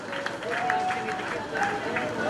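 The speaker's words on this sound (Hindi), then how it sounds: "गोपाल जी का स्वागत करें जोरदार तालियों से" An audience claps loudly and continuously to welcome a guest, Gopal ji, at an environmental tree-planting gathering, with a voice speaking over the steady applause.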